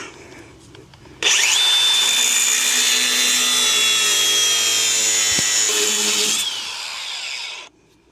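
Power tool cutting off frame-mount bolts on a Datsun truck being fitted with a Mopar engine, a loud steady high whine and grinding that starts abruptly, runs about five seconds, then winds down.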